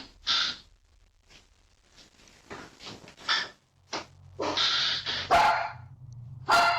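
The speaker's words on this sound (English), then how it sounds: "Oh, the dog is barking." A dog barks in several sharp bursts at close range, with short quiet gaps and some breathy sounds between the barks.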